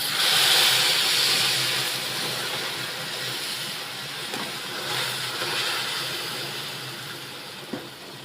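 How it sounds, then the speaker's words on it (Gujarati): Boiled milk pours onto sev roasting in ghee, raising a loud steady hiss that starts strong and slowly eases, with one small clink near the end. "હવે એની અંદર જે આપણે દૂધ ઉકાળેલું છે એ બધું જ દૂધ નાખી દઈશું"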